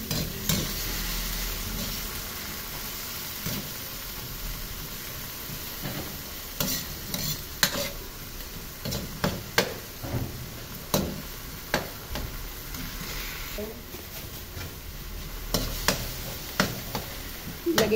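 Shrimp paste (bagoong) sautés in a pan, with a soft frying sizzle under repeated clacks of a spatula stirring and scraping in an uneven rhythm, close and moderately quiet, with no talking.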